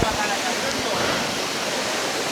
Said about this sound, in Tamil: இந்த அழகான அருவிக்கு, மலேசியாவோட அருவிக்கு